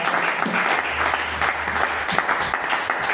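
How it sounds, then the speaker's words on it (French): A congregation at a ministers' conference breaks into sustained applause, a dense, even patter of many hands over a low steady hum, filling the room without pause. "Est-ce qu'on peut avoir une tonne d'acclamation,"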